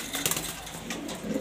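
A male pigeon in a pen with its mate and squabs gives soft, low cooing close by over a brief moment, with no voices.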